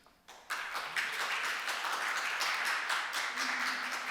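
Crowd applause for a contestant at a Nordic game discovery contest swells in after a brief quiet start and continues as dense, steady clapping.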